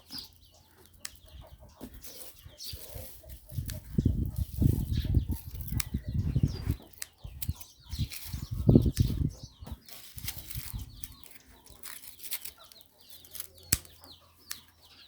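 Chickens on a Thai farm cluck and flap their wings in a rapid, busy flurry, with bursts of beating wings loudest in the middle and softer clucks and rustles scattered around them, near and moderately loud.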